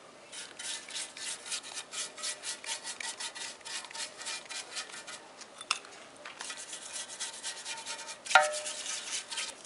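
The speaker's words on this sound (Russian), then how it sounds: "Еще раз пройдем щеточкой." A stiff brush scrubs steadily over the timing chain cover of a 2-litre Ford Mondeo, rapid rhythmic strokes rasping close and clear, with a sharp knock near the end.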